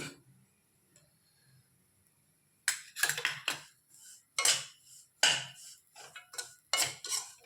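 A spoon scrapes and clatters against a pan as semolina and dry coconut are fried and stirred for rava laddu, with sharp, irregular strokes after a quiet start.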